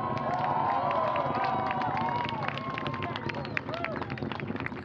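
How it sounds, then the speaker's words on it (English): Spectators at Wallops cheer and shout as an Antares rocket lifts off carrying a Cygnus cargo craft, a loud dense crowd roar with whoops and whistles rising over steady broadband launch noise, with voices mixed in. "Crowd watching the launch at Wallops there, cheering its liftoff"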